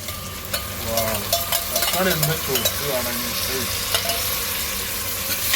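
A spoon stirs mutton with tomato and a stock cube in a hot pan, with a close, steady sizzle under repeated scraping strokes and a few soft clinks against the metal.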